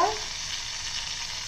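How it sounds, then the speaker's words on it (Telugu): Oil sizzles and crackles steadily as spices and curry leaves fry in a pan for buttermilk curry, a close, continuous hiss with no pauses. "ఈ పోపు కొద్ది ఫ్రై అయ్యాక"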